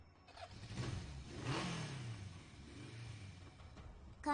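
A motorcycle in the Steins;Gate 0 video game cranks over and starts, its engine then swelling and revving before easing off, soft and fairly distant, with no voices.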